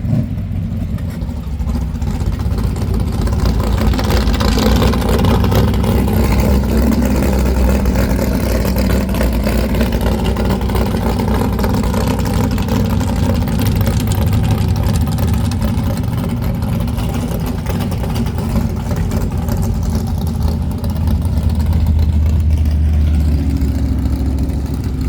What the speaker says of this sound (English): Getting ready to get the car warmed up myself and get ready to run another day